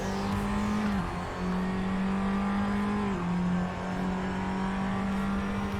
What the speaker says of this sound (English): The revs going up, the sound of the airstream, upshifts, downshifts, driving over curbs.